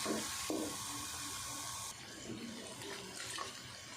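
Water is poured into a pan of spices cooking for aloo moongray sabzi, a steady rushing pour that cuts off abruptly, followed by a lower sizzle.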